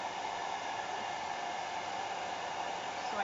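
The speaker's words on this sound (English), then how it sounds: "you can put this standing hair dryer anywhere you want" A standing hair dryer blows steadily on a Maltese dog at home, a constant loud airy whoosh that holds even and unbroken throughout with no talking.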